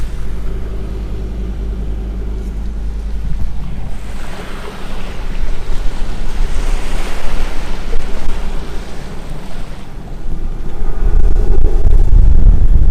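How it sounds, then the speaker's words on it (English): Strong easterly wind buffets the microphone on Moreton Island's western beach at sunset, a loud, continuous roar with surf washing underneath that swells louder toward the end. "The wind's just turned straight east."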